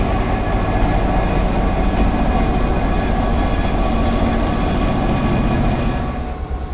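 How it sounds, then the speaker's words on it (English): An Irish Rail locomotive for the Belfast train couples to its coaches at a station, a loud, steady diesel rumble with metallic hum that eases slightly at the end. "watching the locomotive for the Belfast train coupling"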